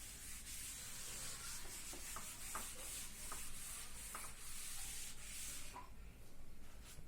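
Steady dry rubbing and scrubbing of a duster erasing writing from a classroom board, close and continuous for several seconds with faint intermittent scratchy strokes over a constant background hiss, no voices.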